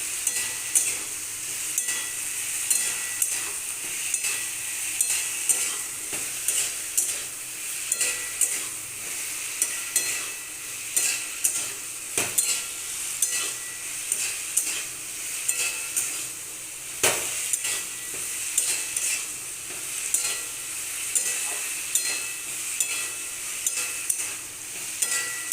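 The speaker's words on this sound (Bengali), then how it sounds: "এটা একটু কষিয়ে ফিরে আসছি" Spices being stir-fried in a pan for a Bengali fish and vegetable curry, a steady sizzle and frying hiss with repeated scraping strokes of a spoon against the pan, close and alone without speech.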